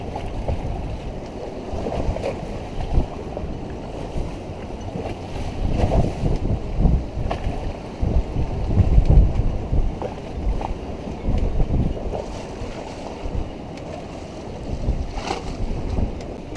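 A moored boat rocks in the windy, rough Key West mooring field with a northeast blow, giving a continuous loud rush of wind and sloshing water with irregular knocks and thumps throughout, and no speech.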